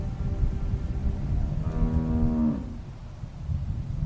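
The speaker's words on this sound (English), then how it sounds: "How do you like that cow, Clem?" A single cow moos in The Walking Dead video game, one long low bellow lasting about a second near the middle of a quiet outdoor ambience, close and clear, with no talking.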